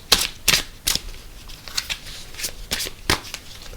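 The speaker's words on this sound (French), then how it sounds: "on mélange les cartes marchands et on mélange les cartes golem" Merchant and golem cards from Century: Golem Edition are shuffled in a series of sharp, riffling bursts close by, with no voices.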